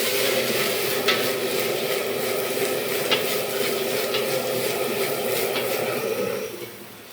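Continuous sizzling of food stir-frying in a hot wok, with occasional metallic scrapes and clinks of stirring, steady for several seconds before tapering off.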